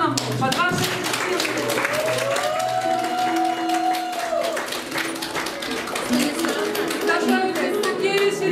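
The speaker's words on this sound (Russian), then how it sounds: "я приглашаю сюда Ковш Людмилу Ивановну под ваши аплодисменты" An audience at a grandmothers' contest in a kindergarten hall applauds with dense, steady clapping. A voice and music ring out over the clapping throughout.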